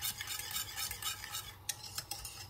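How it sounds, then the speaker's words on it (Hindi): A spoon stirring a thick paste in a pot, quiet repeated scraping and swishing strokes with a few soft knocks against the side, close by and alone. "आप इसमें साथ साथ चम्मच जरूर हिलाते रहिए, या विस्क जो भी आपके पास, ताकि इसमें गुठलियाँ ना बने।"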